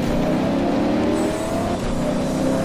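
Race car engines in the Alarm für Cobra 11 driving game roar continuously at a loud, steady drone throughout.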